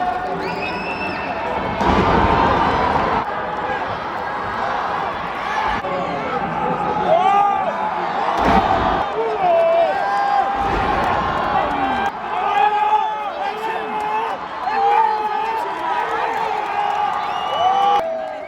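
Crowd at a lucha libre wrestling match in Mexico City cheers and shouts in swelling waves throughout, with someone talking closely over the arena noise most of the time.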